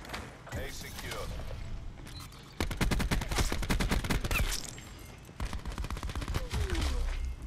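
Rapid bursts of automatic gunfire in Call of Duty Black Ops 4 during an objective-capture match, loud and dense with short pauses between volleys, with game mechanism clicks and a voice talking over parts of it.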